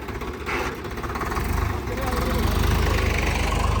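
Sonalika 750 tractor diesel engine idling with a steady low, knocking throb close by, holding level throughout under a murmur of nearby voices.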